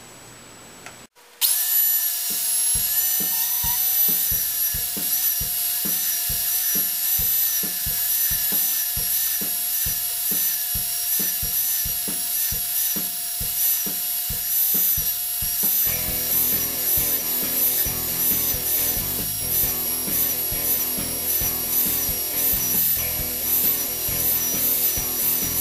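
Belt sander working planed black walnut, a steady loud whine with a rhythmic pulsing grind for the first stretch, then a rougher, denser scraping texture as sanding continues alone without talk.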